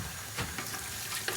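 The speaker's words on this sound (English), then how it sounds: "So what I'm going to do is going to add a cup of water to it" A cup of water is poured into a pot of vegetables being cooked as homemade dog food, producing a soft, continuous splashing and sizzling wash with a few small bursts.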